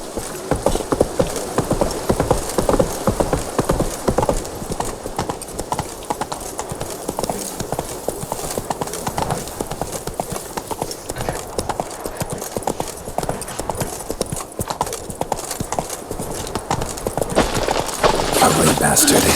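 Horse Roach clip-clopping at a steady gallop in The Witcher 3, hooves loud and continuous throughout, with game ambience and a voice talking over it at points.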